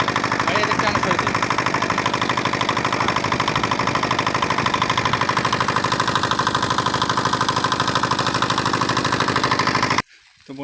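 Engine of a field irrigation pump machine running steadily, a loud close rhythmic chugging drone for about ten seconds before cutting off abruptly.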